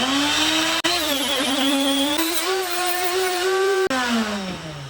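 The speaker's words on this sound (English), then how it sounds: "Positive pressure hood, turn it on." A positive pressure hood blower in a woodturning shop runs with a loud, steady motor whine whose pitch shifts slightly, broken by two very short cutouts.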